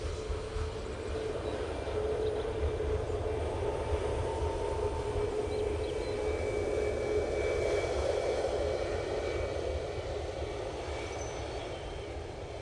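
Ryanair jet airliner passing overhead at Manchester Airport, a steady moderate roar with a faint whine that swells gently and then eases over about thirteen seconds, with no voices.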